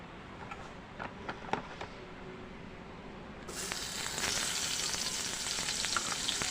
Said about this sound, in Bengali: এবং কড়াইতে সামান্য তেল দিয়ে দিচ্ছি